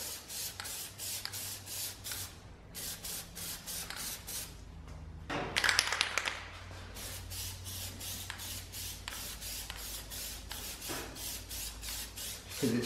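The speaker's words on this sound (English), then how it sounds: "Even a brand new can doesn't spray well." A can of spray paint is sprayed onto a car in short hissing bursts with brief gaps in between, steady and close, with one louder rougher blast near the middle.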